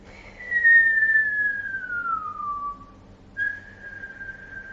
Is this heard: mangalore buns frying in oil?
no